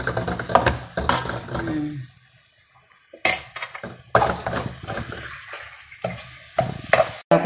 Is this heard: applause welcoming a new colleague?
no